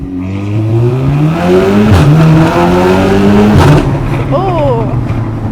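A 550bhp car accelerates hard through London streets, its engine note climbing loudly through two gear changes with brief dips between pulls, heard close from inside the cabin.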